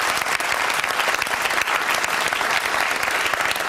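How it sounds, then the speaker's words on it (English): A studio audience claps for one another after a televised debate on whether God exists, a full, even round of applause sustained throughout. "Can you all applaud each other for a pretty civilised affair?"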